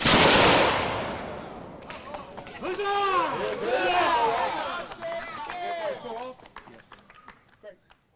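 Reenactors fire a musket volley at a historic sawmill event: one loud, sharp blast opens the moment and fades quickly, followed by people talking and chattering nearby.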